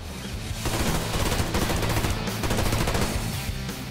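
Rapid automatic gunfire from a PPSh-41 submachine gun in the game Survarium rattles continuously in a dense, loud burst with booming low-end.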